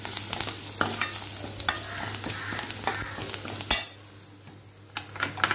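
Turmeric is stirred into a hot tempering in a pan for buttermilk rasam, with a soft sizzle under repeated close spoon scrapes and clinks that thin out toward the end.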